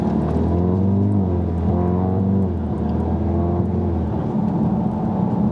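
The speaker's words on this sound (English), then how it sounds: "You get a lot of intake noise as well." Tuned Audi TTS with a carbon air intake revving, loud engine and intake roar rising and falling in a few pulls, heard close with no talk.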